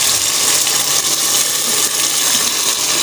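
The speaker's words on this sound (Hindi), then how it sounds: "ये वाला कप मैंने पानी का डाल दिया जिसमें हमारी दाल जो है भीग गई है।" A large cup of water is poured steadily into a cooking pot of soaked dal for daal mash, making a continuous loud, close splashing gush with no talk.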